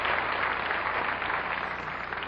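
A television studio audience at The Tonight Show in 1973 applauds, a continuous wash of many hands clapping at steady volume that tapers slightly toward the end.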